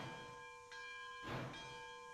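A locomotive bell rings steadily in the Railroads Online train game, a sustained metallic clang with a brief louder burst of hiss partway through, heard alone at low level.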